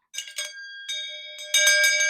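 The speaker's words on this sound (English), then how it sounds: "as you can see, I'm using a bell" A hand bell rings out alone in a series of bright metallic strokes, first two quick ones, then a sustained ring and a louder final burst of clanging, clear and close.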